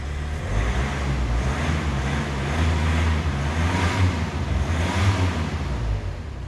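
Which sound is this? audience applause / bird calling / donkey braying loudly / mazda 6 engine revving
mazda 6 engine revving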